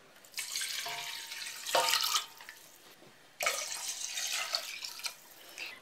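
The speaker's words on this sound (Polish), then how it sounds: "Umyte udka z kurczaka wkładam do garnka i zalewam je zimną wodą." Cold water poured from a tap into a pot of washed chicken legs, two close splashing, gushing bursts separated by a short pause, with no talk.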